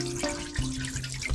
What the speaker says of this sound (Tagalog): Maglalagay lang po tayo ng tubig sa ating kawali